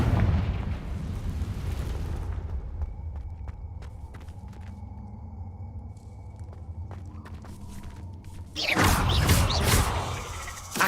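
A Confringo spell blast in Hogwarts Legacy erupts as a loud, booming rumble at the start, fades into quieter ambience with faint ticks, then a second heavy blast surges near the end.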